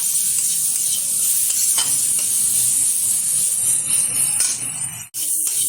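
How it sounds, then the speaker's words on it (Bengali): Onions fry in oil with a loud, continuous hiss and crackle, close by, with soft stirring scrapes and a brief break near the end, and no voices. "হালকাভাবে পেঁয়াজটা ভেজে নিলাম।"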